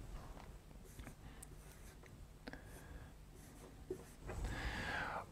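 A pen writes a fraction on paper in quiet, faint, scratchy strokes with brief pauses, heard close up over low room noise.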